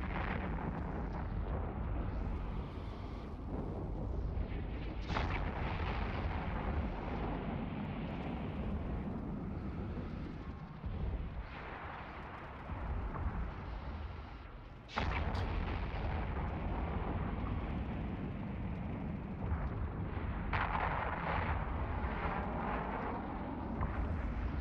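Ship weapons firing during a space combat attack in the Eve Online video game, a continuous rumbling barrage with sharp louder blasts near five and fifteen seconds, heavy and dense.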